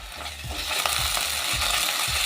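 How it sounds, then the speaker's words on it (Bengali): Ginger and chili paste frying with onion in ghee for a banana-flower mochar muithya, a steady sizzle with periodic low stirring scrapes of a spatula, close and moderately loud, no talking. "আদা বাটা লঙ্কা বাটা সব ভালো করে ভাজা হয়ে গেছে"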